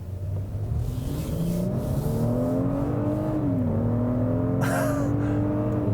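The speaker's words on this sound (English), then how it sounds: "I really am eager to get on the road with this new twin turbo V6." A 2017 Genesis G90 with a 3.3-litre twin-turbo V6 accelerating hard, the engine note climbing steadily through a gear change from inside the cabin, loud and continuous.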